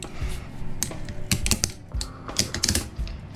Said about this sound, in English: So I usually wind up just going like that and ripping these.